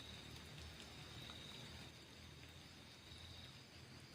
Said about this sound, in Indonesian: cuman gerimis-gerimis doang kayaknya